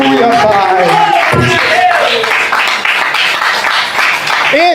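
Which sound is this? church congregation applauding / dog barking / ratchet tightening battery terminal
church congregation applauding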